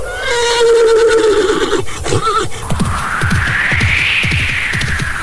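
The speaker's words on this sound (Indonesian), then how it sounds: "Oh, Pangrango, lihat, kuda itu pergi meninggalkan pondok ini" A horse whinnies loudly and close by, a long descending neigh followed by a second call as it runs off, with hoofbeats thudding away into the distance.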